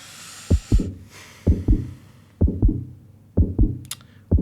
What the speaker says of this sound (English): can we get a heartbeat